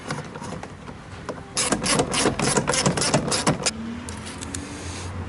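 A ratchet drives a 10mm bolt back into the rear door of an extended-cab 2004–2008 Ford F-150, with a close, loud burst of rapid clicking ratcheting strokes after a quieter start.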